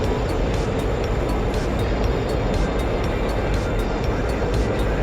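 Steady, loud roar of a MiG-21 jet engine in flight in DCS, a continuous broadband rush holding even for several seconds with no talk.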